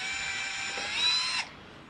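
A power drill whirs steadily at close range for about a second and a half while drilling holes to mount a Yakattak LeverLoc anchor trolley on a Vibe Sea Ghost 130 kayak, then stops abruptly.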